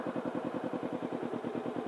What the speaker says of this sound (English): So right now, again, no throttle, no clutch. The bike's moving on its own.